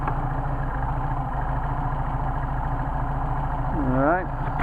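A Mercedes 190SL engine with Solex carburetors idles steadily after a hot start, a continuous low rumble that swells briefly near the end, with a rising whine at that point.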